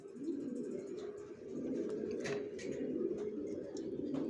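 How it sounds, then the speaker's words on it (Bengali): Racing pigeons coo in soft, repeated low throaty calls, close by and continuous, with faint chirps and small clicks from the loft mixed in. "কবুতর।"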